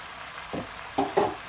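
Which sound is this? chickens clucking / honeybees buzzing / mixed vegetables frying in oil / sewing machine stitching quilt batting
mixed vegetables frying in oil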